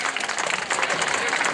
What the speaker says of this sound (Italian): Allora un grande applauso ancora a Mariluna.